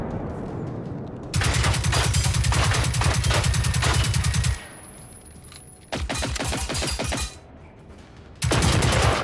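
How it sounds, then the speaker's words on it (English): A missile barrage in the video game Generation Zero: loud sustained rapid volleys of explosive fire in several bursts separated by short quieter gaps. "That sounds like a missile barrage."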